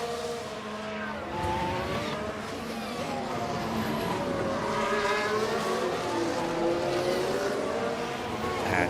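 Formula 1 race cars in a video game scream past one another while overtaking at Baku, several engine notes rising and falling and overlapping as they pass, loud and continuous with no talk.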